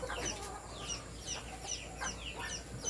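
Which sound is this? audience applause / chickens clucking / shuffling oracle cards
chickens clucking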